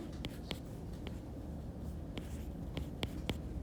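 A marker drawing a molecule diagram on a board in a biology lesson, making faint scratchy strokes and several short taps that come at irregular intervals against a quiet room background.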